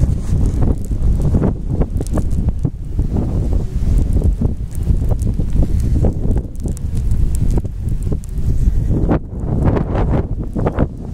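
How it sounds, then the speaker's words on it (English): Strong blizzard wind roars at night, loud and continuous with heavy low buffeting and gusty rattling, the force rising and falling throughout. "but you can hear the sound in the wind."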